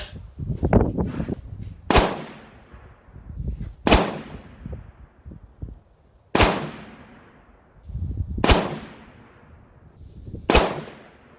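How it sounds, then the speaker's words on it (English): Rifle shots from a PSA 6.5 Grendel fired one at a time on a range, five or six loud sharp cracks spaced about two seconds apart, each followed by a short decaying echo, with quiet movement between shots. "let's try another 5 shots"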